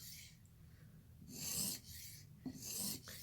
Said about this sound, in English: I can feel the resistance of that burr being sheared off.